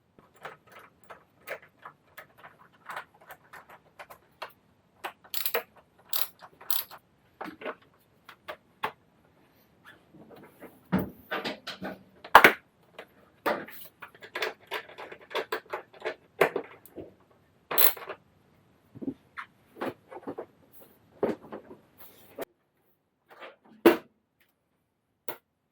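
Fuel tank and seat being bolted back onto a KTM Duke 390 motorcycle, with scattered clicks, taps and metallic clinks of tools and fasteners at irregular intervals, close and fairly quiet.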